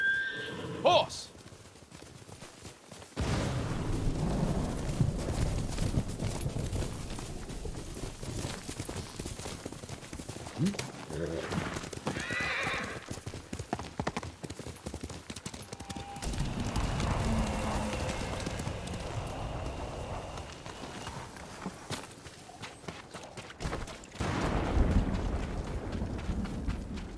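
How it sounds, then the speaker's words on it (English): A horse in Ghost of Tsushima whinnies and gallops amid game action, hoofbeats drumming steadily under a busy mix of combat noise and voices, with a neigh rising partway through. "Horse!"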